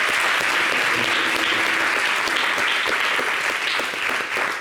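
Dense, loud applause from a television studio audience for a singer, a continuous wash of many hands clapping without letup.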